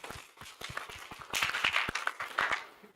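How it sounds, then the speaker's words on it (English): Applause for the National Commission at a Baringo geopark capacity-building workshop, sparse separate claps that swell into fuller clapping from a modest group in the room. "maybe a big applause as well for the National Commission"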